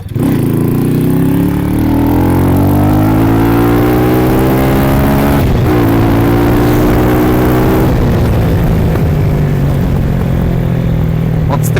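A Minsk motorcycle engine revs and accelerates during an evening ride, close and loud throughout. The pitch climbs steadily, drops briefly and climbs again, with no clear speech over it.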